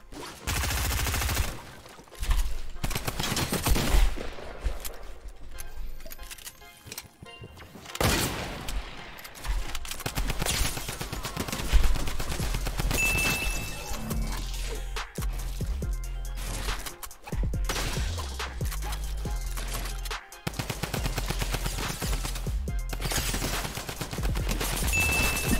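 Fortnite gunfire, rapid bursts of automatic and single shots crackling repeatedly over about twenty-five seconds, some close and sharp, others in quick volleys with short gaps between.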